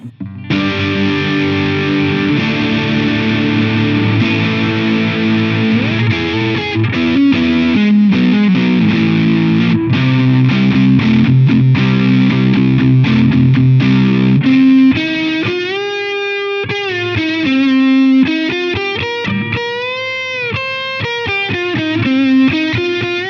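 Heavily distorted electric guitar chords through an MXR Custom Badass Modified O.D. overdrive pedal ring out thick and loud, shifting into sustained, wavering overdriven notes with a warbling, bending character.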